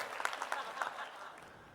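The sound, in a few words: audience applause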